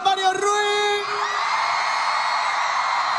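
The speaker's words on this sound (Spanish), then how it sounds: "¡Un grito fuerte, arena!" An arena crowd at the MTV MIAU 2018 awards show erupts: a high shouted whoop leads into a loud, sustained roar of cheering and yelling that fills the space.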